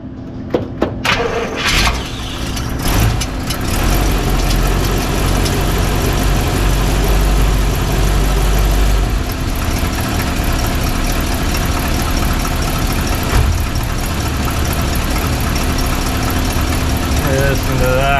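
A hot rod V8 with Corvette valve covers cranks and fires up, then settles into a loud, lumpy idle that rumbles close by with people talking over it.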